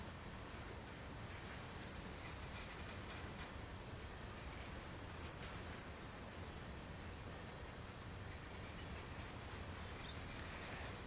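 A Class 20 diesel locomotive, number D800, rumbles past as a continuous, loud, broadband roar with a faint rhythmic clatter of wheels, holding steady without any voices.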